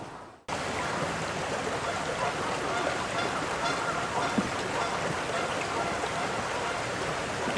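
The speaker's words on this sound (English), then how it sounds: "just listening to the sounds like the stream running" A stream runs steadily at a nature center, a dense, even rush of water that fills the whole clip after a brief quiet start, with faint goose honks in the background.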